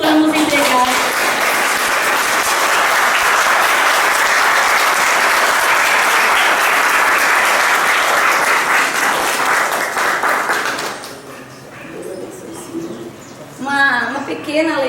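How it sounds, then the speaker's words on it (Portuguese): A church community gives a long, loud round of applause for a man being honored, dense and steady for about eleven seconds before fading into birdsong and scattered voices. "com uma grande salva de palmas"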